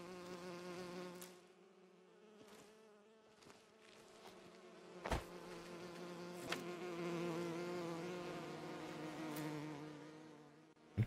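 Bees buzzing at a beehive in the video game Enderal, a steady, close insect drone with several wingbeat tones layered together, holding continuously with a few brief clicks and bumps mixed in.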